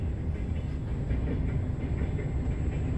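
A freight train with container flatcars rolls past a level crossing in the Moscow region, a loud continuous rumble with rhythmic clatter of wheels, close by and without talk.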